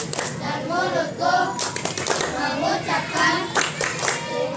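Children clap a rhythmic thank-you pattern in a classroom, with close, sharp claps falling in bursts between their chanted speech.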